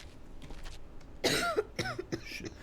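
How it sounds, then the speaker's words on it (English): A character in the video game Quarantine Zone: The Last Check coughs in a few harsh, throaty bursts. A short cough comes first, then a louder pair, then softer rasping coughs trail off, close and clear against a quiet background. "I believe you thoroughly that you are coughing."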